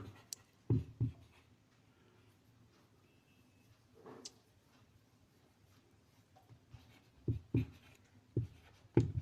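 A word is written by hand on a classroom board, heard as faint, scattered scratching strokes with a few sharper taps and long quiet gaps between them.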